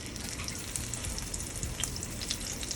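Shrimp sizzle and fry in a very hot pot on a stove at medium heat, a steady dense crackling hiss that carries on without a break.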